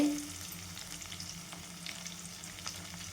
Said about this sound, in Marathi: अद्रक लसण हिरवी मिरची पेस्ट हे पण छान टाकून घ्यायचं तेलामध्ये छान परतून घेऊत आपण